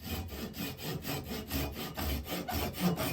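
A wooden wand is cut into by hand with a small saw, giving quiet, rhythmic rasping strokes, about a dozen back-and-forth pulls at a steady pace, close up with no talking.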